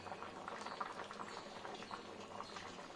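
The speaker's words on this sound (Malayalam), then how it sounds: "ഇത് നന്നായി തിളച്ചു വന്നിട്ടുണ്ട്" Thalassery-style fish curry bubbling in a clay pot, a soft, continuous close-up boil of thick liquid with fine popping, quiet and without talk.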